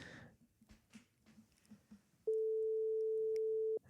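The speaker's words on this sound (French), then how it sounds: "Allez, première sonnerie." A single long steady telephone tone sounds on an outgoing call in France, lasting about a second and a half, clear and alone after a stretch of faint background murmur.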